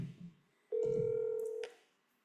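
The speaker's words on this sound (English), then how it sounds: "I'm going to try maybe 3 phone numbers." A telephone number tapped out on a phone keypad: a sustained steady touch-tone beep lasting about a second, followed by a brief higher chirp, loud and close, with a few soft murmurs just before.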